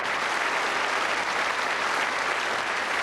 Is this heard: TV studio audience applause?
yes